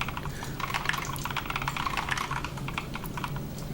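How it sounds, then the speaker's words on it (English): Steady, fast typing on a computer keyboard during a game development session, with dense, close clicking keystrokes running throughout at an even level and no voices. "I'm glad you enjoy the ASMR, the keyboard sounds."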